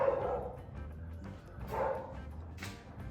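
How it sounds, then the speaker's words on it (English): A dog barks a few times at a distance, with muffled, faint barks spread over a few seconds against a low background rumble. "the dog's outside barking"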